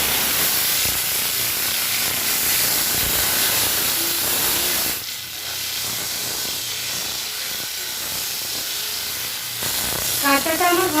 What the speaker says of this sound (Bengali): তেলটা আমার গরম হয়ে গেছে, আমি কাঁটাটাকে তেলে দিয়ে দিব।